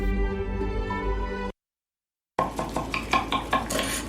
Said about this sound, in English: These are the sounds of a dinner that almost didn't happen.